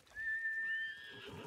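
A single short horse whinny in the video game Ghost of Tsushima, bright and rising then wavering, close and clear against a quiet background.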